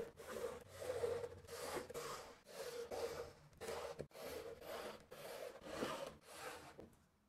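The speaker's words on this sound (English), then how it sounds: "with an awl cut the sewing holes all the way through" An awl works through leather to cut sewing holes, producing repeated close scraping, rasping strokes in a steady back-and-forth rhythm of roughly a dozen pulses, with no talking.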